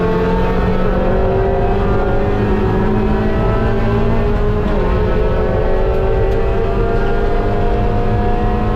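A race car at Mid Ohio pulls away loudly at the start, its engine rising steadily in pitch and holding a dense, continuous roar throughout with no talk over it.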